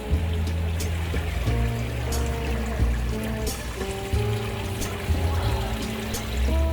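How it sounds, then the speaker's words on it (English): Steady rushing and splashing of water fountains at the Bellevue Arts Fair, continuous and fairly close, with a faint murmur of people and music in the background. "These are all the water fountains that you can see."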